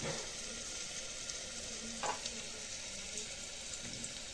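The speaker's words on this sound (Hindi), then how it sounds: "और ये डाल दिया मैंने प्याज, और प्याज हो रखा।" Onions frying in a home-kitchen pan while chole bhature is being made, giving a steady close sizzle throughout with a few clinks of stirring, no voices.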